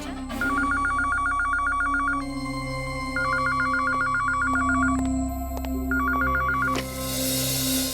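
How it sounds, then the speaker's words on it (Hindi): A telephone rings in a police office scene from the CID television series, with three bursts of rapid electronic trilling separated by short pauses over a steady background hum, fairly loud and with no speech. "सर, आपका फोन।"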